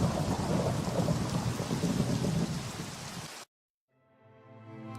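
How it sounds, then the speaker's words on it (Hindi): Heavy rain with rumbling thunder in a Minecraft world on a snowy Antarctic island, a loud dense downpour that cuts out abruptly and gives way to quieter tonal game sounds. "पानी से बाहर आते ही बहुत तेज बारिश हो रही थी"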